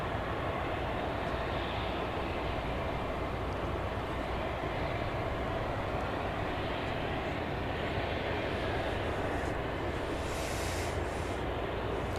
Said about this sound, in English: UPS, the back end of UPS flight 781. It's off to Louisville. This is a 757.